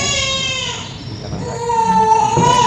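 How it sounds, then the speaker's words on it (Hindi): An infant cries and wails continuously inside a temple, loud and close, with wavering high-pitched cries rising and falling throughout. "रोज की तरह बुढ़िया मंदिर में आती है और उसे एक बच्चे की किलकारी सुनाई देती है।"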